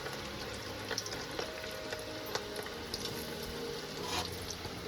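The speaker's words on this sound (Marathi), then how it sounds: "आणि फायनली भजे सोडलेले आहेत तेलात." Small shrimp fritters, kolbi bhaji, frying in hot oil, a steady close crackling sizzle with scattered pops throughout and no talking.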